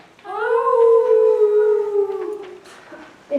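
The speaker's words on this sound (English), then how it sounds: "Deep in the heart of a forest, a throng of howls chorus." A wolf in a forest lets out one long, smooth howl that holds steady and then trails off, clear and fairly loud, with a faint rustle at the end.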